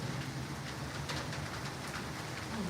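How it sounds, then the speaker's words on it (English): Rain falling outside, a dense, steady hiss and patter that is fairly faint and continuous, with no voices. "Oh Lord, it is raining out there."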